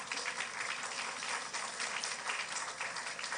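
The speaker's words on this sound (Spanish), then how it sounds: "Vamos a recibirlo con fuertes aplausos." Sustained audience applause at a seminar, steady dense clapping from a crowd welcoming speakers, moderately loud and continuous without pauses.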